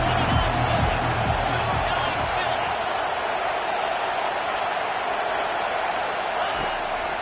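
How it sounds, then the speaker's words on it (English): A Madden football video game stadium crowd roars steadily and loudly throughout, a dense wash of cheering with a brief swell near the start. "this crowd is turning it up a notch"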